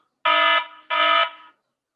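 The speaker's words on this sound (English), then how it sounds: "So I have already got this alarm." Two loud electronic alarm beeps from a security alarm panel signal a zone 1 alarm, each about a third of a second long and sounding alone with no talk.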